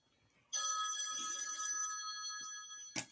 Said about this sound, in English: I was gonna answer it like I'm answering a fucking office phone.